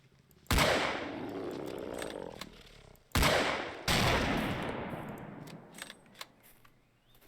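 Explosions in the video game Dread X Collection 2 as three loud, sudden blasts, each ringing out and decaying slowly over a quiet background, the last two close together.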